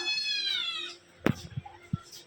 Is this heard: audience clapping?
no